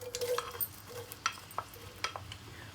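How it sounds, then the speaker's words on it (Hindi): Chopped onions hit hot oil in a pan and sizzle and crackle steadily, with light stirring scrapes and small pops, close and fairly quiet with no talking. "मैं इसमें प्याज़ें शामिल करती हूँ"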